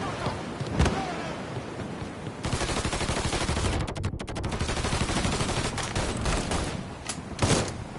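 Mafia 3 firefight: sustained rapid automatic fire crackles almost without pause, with heavier individual reports standing out over the constant din.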